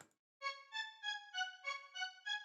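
A filtered string sample from a drum kit plays seven steady rhythmic notes, rounded and clear, with high and low pass filtering shaping the tone, heard alone after a short noisy onset.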